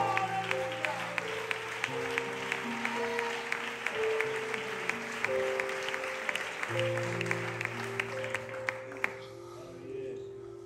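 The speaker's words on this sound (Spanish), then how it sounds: "¡Fuerte el aplauso para Jesucristo!" Church congregation applauding during a worship service, a dense, steady round of clapping that carries on for several seconds over sustained organ or keyboard chords before fading out near the end.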